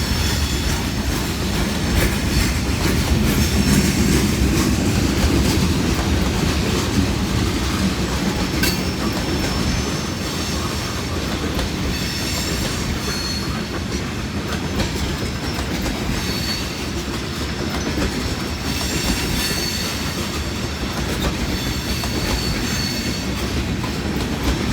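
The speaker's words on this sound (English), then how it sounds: "I'd like to know how many axles this train had." A long freight train rolls past on the rails, a loud, steady rumble with clattering wheels and occasional squeals sustained throughout, heard close by with no talking.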